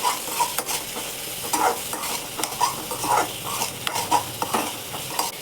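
Tomato chutney with green chilies and salt being stirred in a pan on the stove, a soft sizzle running under repeated scraping strokes of a spoon against the pan, close and steady.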